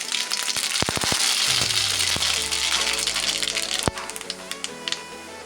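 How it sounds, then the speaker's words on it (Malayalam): Mustard seeds crackle in a spoonful of hot oil in an iron cheenachatti on the stove, making a steady patter of sharp pops and a few louder cracks over a continuous hiss. "കടുക് പൊട്ടി കഴിയുമ്പോൾ ഒരു സബോള"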